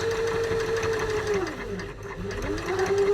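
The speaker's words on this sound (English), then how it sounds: "So we need to push this side out of the way to make sure we're just sewing this little fold." Sewing machine stitching a small edged seam fold at a slow, steady pace, a continuous close mechanical hum and rapid needle clatter with a slight dip in speed midway.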